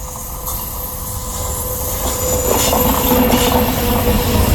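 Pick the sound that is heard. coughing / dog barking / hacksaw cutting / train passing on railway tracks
train passing on railway tracks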